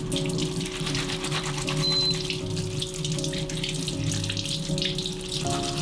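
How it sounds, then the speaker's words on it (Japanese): Tap water runs steadily into a kitchen sink while okra is rubbed and washed inside its net bag. The flow is continuous and close, with a faint tonal hum underneath and no talking. "オクラはネットに入れたままこすり洗い、板ずりしても OK です。"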